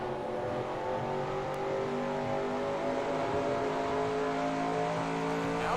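A race car engine drones steadily at high revs in a racing video game, a constant loud whine holding from start to finish with no talk over it.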